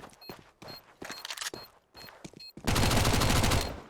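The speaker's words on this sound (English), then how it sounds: "So now it's Greg versus Juve. A headshot battle" Counter-Strike match gunfire: scattered sharp shots and short bursts with footsteps-like clicks, then a sudden loud sustained volley of rapid fire near the end, with no voices over it.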